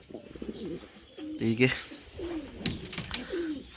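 Pigeons in a home breeding loft coo in short throaty bursts close by, mixed with other faint bird calls, while someone talks over them.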